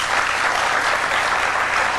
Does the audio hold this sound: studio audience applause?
yes